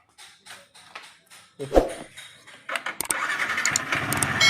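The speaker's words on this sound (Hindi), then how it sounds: "बाइक को हम यहाँ से स्टार्ट कर रहे हैं।" A Yamaha R15 V3 motorcycle engine cranks over several times with the starter, then catches and settles into a steady running note, close by.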